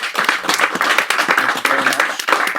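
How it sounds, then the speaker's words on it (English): Hearty applause from an audience, dense clapping throughout at a fairly loud, even level. "Let's give George a round of applause."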